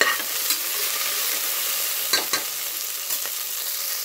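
Okra pieces frying in a pan while being stirred give a continuous close sizzle, broken by a few sharp scraping stir strokes, with no one talking.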